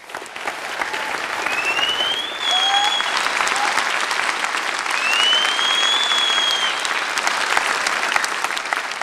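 Sustained audience applause fills a lecture hall after the introduction of a speaker, a dense even patter of many hands lasting about nine seconds with a few faint whistles or voices above it.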